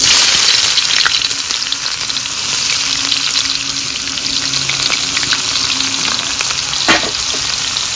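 Onions hissing and crackling in hot oil with bay leaf for a spicy mango chicken curry, a steady loud sizzle throughout with occasional utensil clinks and a sharper pop near the end.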